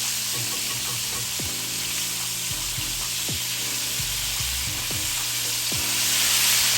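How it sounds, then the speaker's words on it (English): A lamb chop for spicy honey garlic chops, freshly flipped in a hot pan, sizzles loudly and steadily up close, with scattered pops and crackles and no voices. "go ahead and flip your lamb chop after 2 minutes"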